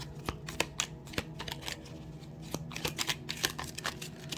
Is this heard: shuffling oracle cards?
yes